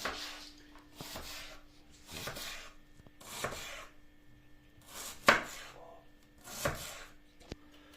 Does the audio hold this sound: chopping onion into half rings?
yes